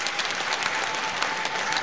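An audience applauds during a public speech by a regional commissioner in Dar es Salaam, a dense burst of many hands clapping close and loud for the whole short stretch.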